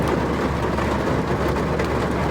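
Steady, dense broadband hiss of heavy rain pouring continuously at a campsite in Nakhon Nayok, Thailand, loud and close, with no voices.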